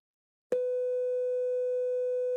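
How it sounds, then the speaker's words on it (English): A steady sinusoidal test tone from a flow-graph signal source starts abruptly after half a second of silence and holds a constant pitch at a faint level with a slight regular pulsing, with no voices. "Leave the signal source connected to the audio sync so you can still hear the tone while visualizing it."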